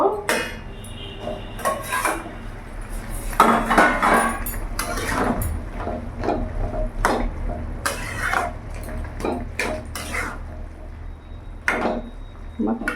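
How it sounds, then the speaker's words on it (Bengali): A cooking pot of potato, papaya and soybean curry has its lid lifted, giving repeated metallic clanks and clatters of lid against pot over a low steady background hum, with some utensil clinks. "আমি এবার ঢাকাটা খুলে দেখব"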